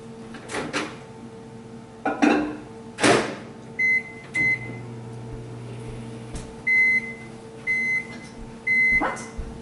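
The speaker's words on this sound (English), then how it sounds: "I'm going to put it in the microwave for probably 10, 15, make it 20 seconds, because then it'll melt" A microwave oven softening and melting butter: a steady low hum, repeated short beeps, a drawer or door clunk, and a dog barking loudly several times nearby.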